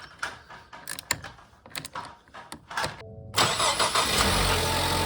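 A 2016 Ford Explorer EcoBoost engine cranks with a starter whir, then catches and settles into a steady, loud idle close by, after some clicking and rattling.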